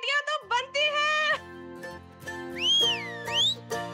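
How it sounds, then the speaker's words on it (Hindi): Rising and falling whistles ring out over a backdrop of music and chatter, two swooping whistle calls near the end. "सीटियां तो बनती हैं।"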